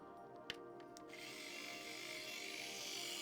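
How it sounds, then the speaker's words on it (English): A small power drill or driver works on the back of a keyboard case, starting after a couple of faint clicks and running as a steady, quiet whir to the end. "Drilling sounds."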